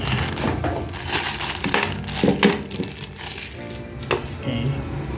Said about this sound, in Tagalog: Ito bubble wrap din.